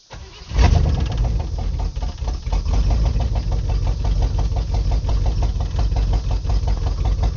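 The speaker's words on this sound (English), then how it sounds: "It cranked a handful of times just to get it primed up, then it fired right up." A starter briefly cranks a handful of times before an abandoned Chevrolet K20 truck's engine catches and fires, then settles into a loud, steady, rhythmic running close by.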